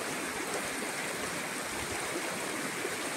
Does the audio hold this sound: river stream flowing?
yes